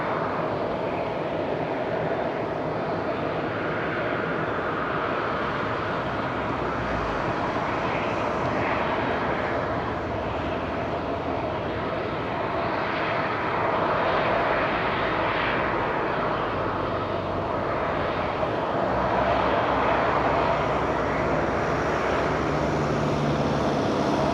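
A British Airways airliner idles and taxis on the ground at Madeira Island Airport, a continuous loud jet engine roar that swells and eases slightly over time, with no talk.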